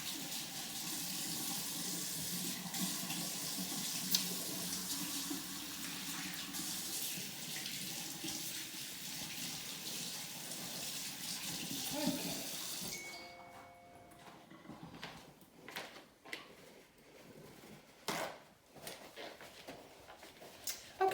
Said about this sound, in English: just gonna wash my hands real quick